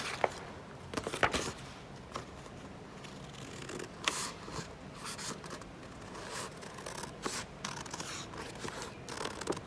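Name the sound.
scissors cutting out corset fabric pattern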